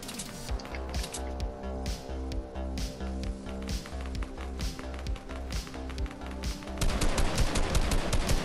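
Continuous automatic gunfire rattles through a Predator hunting video game, rapid bursts running steadily and growing louder and denser toward the end, with no talk over it.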